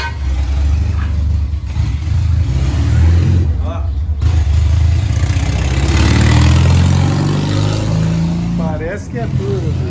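A turbocharged stock Chevrolet Corsa pickup engine revs loudly and steadily up close, its low rumble rising and falling, while people talk over it throughout.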